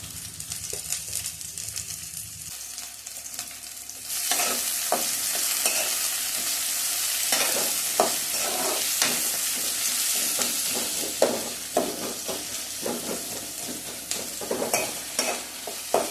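Steady close sizzling of masala for egg gravy frying in a pan, with repeated scraping and clinking strokes of a spoon stirring throughout; no one speaks.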